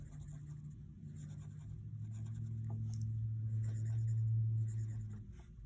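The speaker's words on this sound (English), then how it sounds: "I'm going to do the second number, and I'm going to do it in pencil" A pencil writes numbers on paper for a number-bond lesson, giving a steady, soft scratching that runs for several seconds, close and fairly quiet, with no talk over it.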